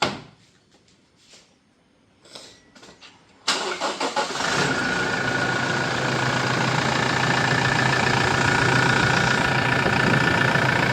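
A car engine cranks and catches after a few quiet clicks and thumps, then settles into a steady, loud idle that continues to the end, close by with no talking.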